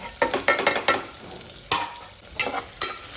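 Onion and garlic, added after whole spices like cinnamon and cloves, frying and being stirred in a pan for egg biryani; a soft sizzle broken by repeated scraping strokes of a spoon, close and fairly loud, with no talk.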